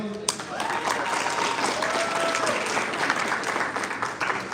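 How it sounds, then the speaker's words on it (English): A crowd gives sustained, steady applause for Tangela at a live gathering held with Florida Parents of Murdered Children, with the clapping filling the room evenly from start to finish. "Once again, another round of applause for Tangela."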